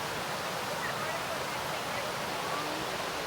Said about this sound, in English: Do you know what river this is?